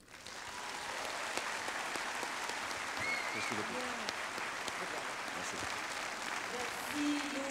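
Sustained applause from a large crowd fills the hall at a Front National party congress in Lyon. It is a steady, dense wash of many hands from start to finish, with faint voices underneath.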